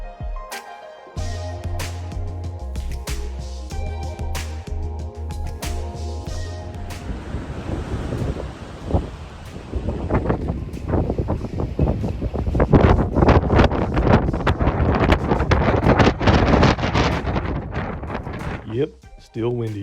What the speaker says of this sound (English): Yep, still windy.